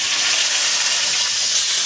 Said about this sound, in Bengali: এবার আলু আর পেঁয়াজটা একটু ভেজে নেব